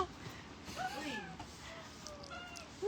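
A cat meows a few times, close and moderately loud, with drawn-out wavering calls near the middle and a shorter one toward the end over quiet room noise.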